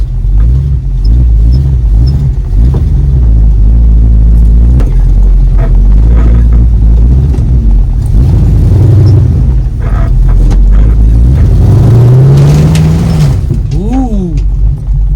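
A 1969 Dodge Coronet with a very high rear gear rumbles loudly over rocks, its engine revving and droning up and down close by while people talk over it.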